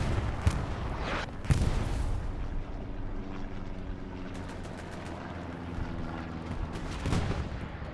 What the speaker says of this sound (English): Oh, that's the artillery strike.